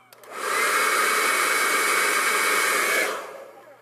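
A hair dryer switched on close by to blow-dry mascara-coated eyelashes, a loud steady whooshing roar that rises quickly, holds for about two and a half seconds, then cuts off, alone without talk.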